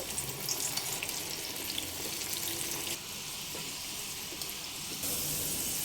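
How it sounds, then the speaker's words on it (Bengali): Chana dal frying in hot oil, a steady dense sizzle and crackle that stays loud and continuous throughout, with a slight lift in brightness near the end and no voices. "ছোলার ডাল তেলের উপরে এইভাবে ভাজতে শুরু করেছে"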